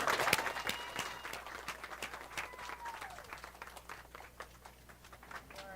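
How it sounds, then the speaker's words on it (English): A crowd applauds steadily for several seconds at a rabbit showmanship event at a state fair, a dense patter of many hands clapping at moderate distance, with a few faint voices mixed in. "Give them a round of applause."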